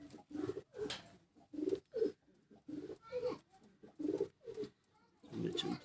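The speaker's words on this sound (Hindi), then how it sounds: "ये मेरे इमाम दीन कबूतर है" Imam Deen pigeon cooing from a rooftop loft, a run of repeated low, throaty coos in a steady pulsing rhythm, fairly close and moderately loud, with no talking over it.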